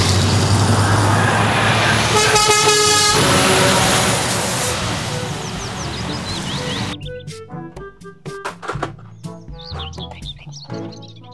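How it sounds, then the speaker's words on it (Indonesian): A container truck's engine drones close by with a loud horn blast sounding around the middle, then traffic noise fades into quieter passing vehicles and chirping birds. "Mobil truk kontainer"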